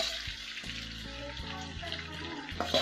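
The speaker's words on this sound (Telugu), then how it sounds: "ఈ రొయ్యలు మొత్తము ఆయిల్లో వేసేస్తున్నాను." Boiled prawns dropped into hot oil in a pan give a soft, steady sizzle close by, with some faint clinks and no clear talking.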